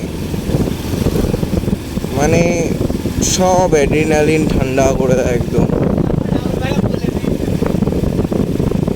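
Motorcycle cruising at night in Madhyamgram, a steady engine drone mixed with rushing wind noise throughout, while someone talks over it.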